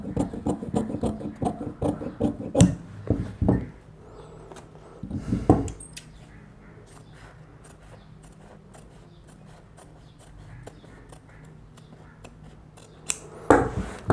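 Scissors snipping through kameez fabric to rough-cut a round neckline, a run of close crisp cuts at first, a brief pair midway, then a quiet pause before a final flurry of snips.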